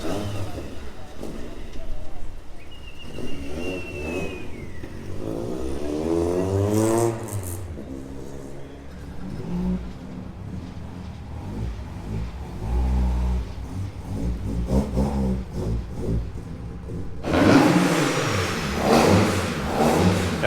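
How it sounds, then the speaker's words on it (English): A Mk1 Golf with a 2.0 16-valve engine on individual throttle bodies revs hard on a dyno, rising and falling through several loud pulls with a sharp induction snarl, voices talking over it. "just to hear the car make a noise on the dyno is always a treat"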